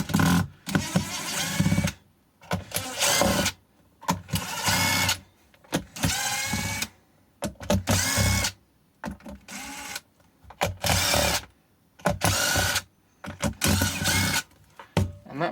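An electric screwdriver whirs in repeated short bursts, about eight times with pauses between, backing Phillips head screws out of a 36 volt ZhenLong rack battery pack.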